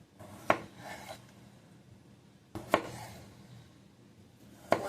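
A knife chops scrubbed, unpeeled vegetables into 1-inch chunks on a cutting board, three sharp, separate strikes spaced about two seconds apart, close and quiet, with no talking.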